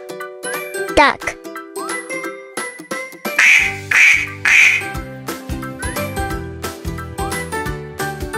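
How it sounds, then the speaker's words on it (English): Toy-like duck quacks ring out in three close bursts amid jingling, tinkling chimes and bright electronic tones, part of a playful counting game for toddlers. "Duck."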